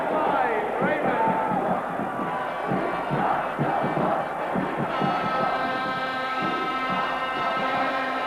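Dense crowd roar from spectators at a 1987 American football game, the Budweiser Bowl between the Manchester Allstars and London Ravens, sustained and loud throughout with many overlapping voices and shouts.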